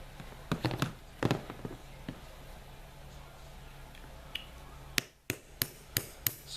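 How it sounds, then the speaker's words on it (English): Sharp metallic taps from punching out a pin on a polished stainless Smith & Wesson SW9VE pistol, a few scattered strikes first, then a quick run of five or six close, crisp hits. "we need to punch the pin out."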